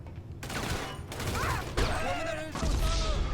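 Rapid gunfire from a GTA Online firefight on a yacht, with bursts of shots and sharp impacts stacked over one another, mixed with game effects and some speech-like sounds.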